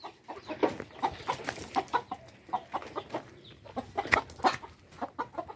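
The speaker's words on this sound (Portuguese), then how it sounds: "Não é pra fazer correria nas galinhas, o pai disse." Chickens clucking on a farm, a busy run of short, close clucks and squawks in an uneven rhythm, fairly faint, with no talking.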